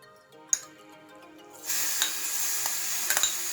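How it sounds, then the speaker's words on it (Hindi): Spice masala for a peas kachori filling roasting in hot mustard oil in a small tadka pan: quiet at first with a single clink, then a steady close sizzle rising and holding, with faint stirring scrapes. "जो मसाला हमने तैयार किया था चटनी के लिए, इसे हम भूनेंगे ताकि इसका कच्चापन निकल जाए।"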